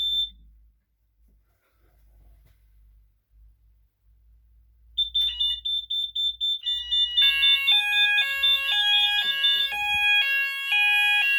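A newly installed fire alarm system goes from a brief panel beep into its evacuate signal during testing, with sounders cycling through pulsing and stepped two-tone alert patterns that grow fuller and louder, close by with no talking.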